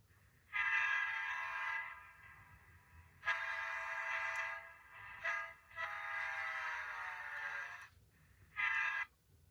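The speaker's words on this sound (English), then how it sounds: "F5 is now Doppler horn." Doppler train horn on a Rapido F59PH model locomotive, a multi-chime blast that bends downward in pitch as if passing, sounding in four loud bursts of uneven length with short gaps between them, with no talk.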